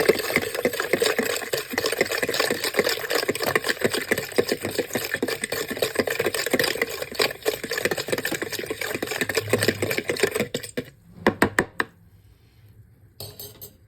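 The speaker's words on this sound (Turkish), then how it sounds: "Güzelce karıştırıyorum." A utensil stirs poaça dough with sugar and warm milk in a kneading bowl, giving steady scraping and clinking that runs for several seconds and then trails off into near silence with a few last taps.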